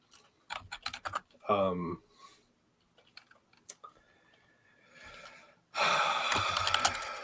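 A computer keyboard clacks in quick, close bursts of typing. The keys are scattered among a few breathy sounds and faint clicks, and a louder, noisier stretch comes near the end.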